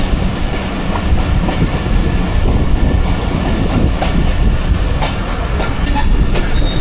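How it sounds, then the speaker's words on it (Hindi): The Jaffar Express passenger train rolls into Rawalpindi railway station with a loud, continuous rumble and rhythmic clickety-clack of wheels on rails. It is heard up close throughout, with no voices. "40 डाउन जाफर एक्सप्रेस ZQ26426 के साथ अप्रोच बना रही है रावलपिंडी रेलवे स्टेशन पे"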